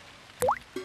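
A wet plop of a drop falling into water, followed a moment later by a smaller, softer drip, fairly close and otherwise quiet.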